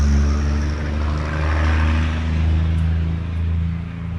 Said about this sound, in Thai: อาจจะมีเสียงรบกวนครับคือเสียงรถบรรทุกนะครับ บ้านลุงมันอยู่ติดถนนใหญ่